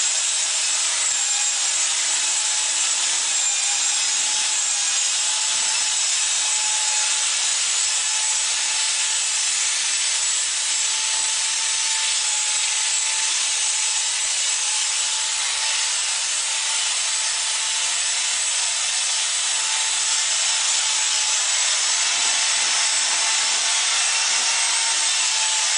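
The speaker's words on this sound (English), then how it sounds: "you want to continue to stir until you have a nice fluffy mix" Hot pipe coating mix being stirred steadily for minutes until fluffy, a continuous loud scraping, rubbing churn with no pauses and no voices.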